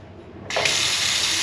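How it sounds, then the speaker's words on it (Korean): A bathroom sink faucet in a Pattaya hotel room is turned on for a water pressure test, and the water suddenly bursts into a loud, steady rushing stream that continues alone. "샤워기 수압 보기 전에 세면대 수압을 한번 보겠습니다"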